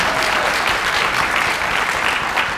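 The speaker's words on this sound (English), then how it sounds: "give them a round of applause" Loud, close applause fills a black belt graduation ceremony, an even, dense clatter of many hands sustained throughout.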